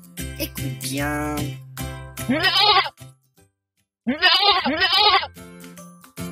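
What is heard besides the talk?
sheep bleating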